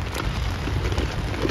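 Steady rain patters on surfaces outdoors during an elk hunt in Colorado, a dense close hiss with no voices.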